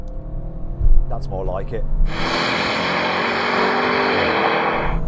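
A BMW M5, Audi RS6 and AMG E63 S launch together in a drag race, a brief spoken remark and rising engine note giving way to a sudden loud, broad roar of acceleration that holds steady to the end.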